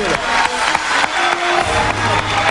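Studio audience applause on a Latin American television show, a dense steady wash of clapping filling the clip with faint cheering, tonal music or voices threading through.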